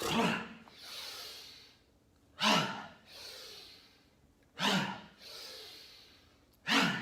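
Hara breath exercise: four deep, forceful breaths, each a sharp rushing exhale followed by a softer, longer airy inhale, evenly spaced and close up.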